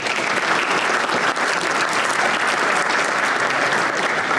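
Sustained audience applause at a mayor and managers breakfast forum, a steady dense wash of clapping from a roomful of people, even in level throughout with no talk.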